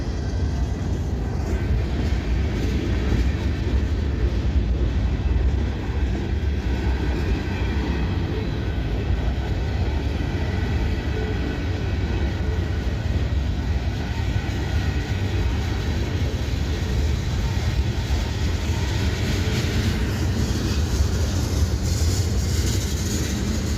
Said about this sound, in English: Boy, this is a big, long train, y'all.